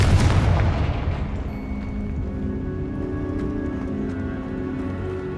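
A Confringo spell explosion in Hogwarts Legacy lands as a loud booming blast at the start, then decays into a lingering rumble under a sustained musical tone.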